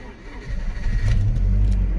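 A Rover car's engine fires and settles into a steady running note, its exhaust raspy, rising in level after a quiet first half second; a faint voice sits under it.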